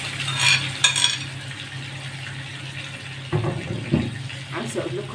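Shawarma meat hits hot oil in a pan and sizzles softly, with a few stirring clatters and scrapes breaking the steady frying hiss.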